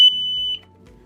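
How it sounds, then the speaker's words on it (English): A loud, steady high-pitched tone from the buzzer alarm of a Maple Systems TL1 tower stack light, turned up to full volume, holding for about half a second before cutting off and leaving a faint hum. "this will also trigger the buzzer alarm"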